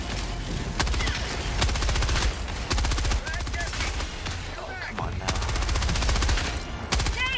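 Rapid bursts of automatic gunfire from Helldivers 2, a co-op shooter, crackle loud and near in repeated volleys over a low rumble, while players talk now and then.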